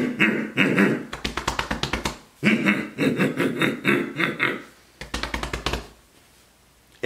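A person imitates an ape's call with rapid, rhythmic hooting bursts in three close, fairly loud runs separated by short pauses.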